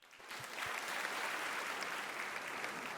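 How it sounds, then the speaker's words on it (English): Audience applause at an art and design symposium, swelling quickly into a sustained, fairly distant wash of clapping that holds steady throughout. "Please give applause to them."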